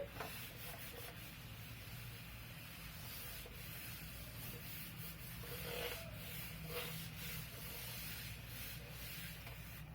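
A duster rubbing a classroom board clean after a maths example, a faint, steady scratchy swishing that repeats in quick strokes against quiet room noise, with no speech.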